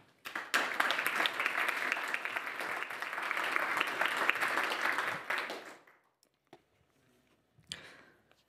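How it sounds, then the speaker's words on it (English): Conference audience applauds the speakers at a panel event on carbon capture and storage, steady close clapping for several seconds that fades out, then a few scattered faint sounds. "So let's give them a huge round of applause."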